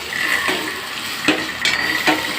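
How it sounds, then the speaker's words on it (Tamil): Ginger garlic paste fries in a pan for a plain salna kurma, with a continuous close sizzle and a few sharp scraping clicks as it is stirred. "இஞ்சி பூண்டு பேஸ்ட்டு ஆட் பண்ணி நல்லா ஃப்ரை பண்ணுங்கள்"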